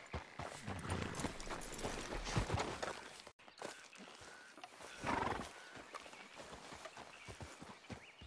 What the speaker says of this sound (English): The goddamn horse got spooked and run off.